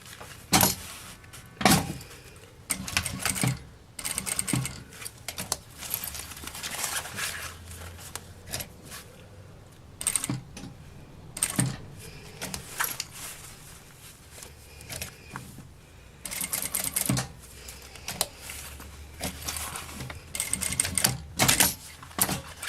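A sewing machine stitches a seam on a small zippered vanity case, running in close bursts of rapid mechanical clatter broken by pauses and handling sounds.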